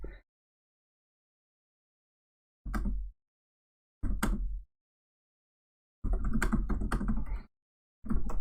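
Short bursts of keyboard typing, a few isolated keystroke clusters separated by silence, then a longer flurry of clicks, close and clear with no voices.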